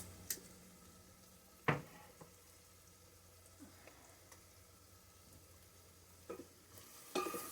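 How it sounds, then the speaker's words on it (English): Butter or oil sizzling faintly in a pan while food is sautéed for cube steak, with a low steady fry broken by several sharp clinks and scrapes of a utensil stirring against the pan, no talk. "I am going to saute that until it starts to brown just"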